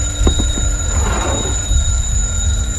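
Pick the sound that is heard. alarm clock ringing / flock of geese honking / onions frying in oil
alarm clock ringing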